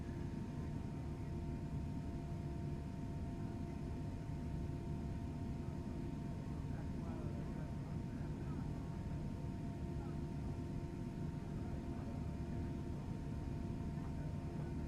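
A Fenix A320 airliner takes off in Microsoft Flight Simulator, a steady, dense low engine roar with a faint high whine held evenly throughout.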